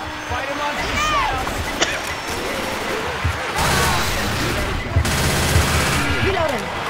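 Continuous gunfire in Left 4 Dead 2, dense bursts of shots and rattling fire running throughout, loud and close, with people talking over it.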